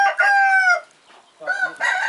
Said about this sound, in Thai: ไก่ชุดนี้ห้าเดือนนะครับ ตัวผู้เป็นสายฝ้ายแดง